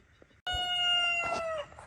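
A rooster crows once, close and loud, a long sustained call with a falling end, over faint background clucking and rustle from small red chickens.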